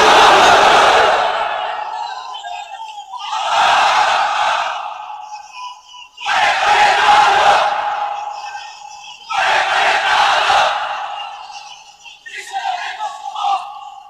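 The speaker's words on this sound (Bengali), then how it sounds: "তাকবীর পড়েন তো দেখি, যারা চলবে বলতেছেন লিল্লাহি তাকবীর" A large crowd at a Bangla Islamic waz sermon roars takbir, Allahu Akbar, in four loud, sustained collective shouts separated by brief pauses, followed by a thinner fifth chant, filling an open gathering.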